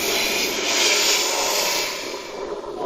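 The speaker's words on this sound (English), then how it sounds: "this Wizz Air almost crashed into the fence when landing in Skiathos Airport" A Wizz Air jet airliner landing at Skiathos Airport roars overhead, a loud broad engine rush that swells and then slowly fades, with no voices.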